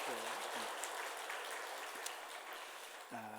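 A church congregation at an afternoon worship service applauds in thanks. The steady wash of clapping fills the room from start to end, and a voice speaks briefly at the beginning and again at the close.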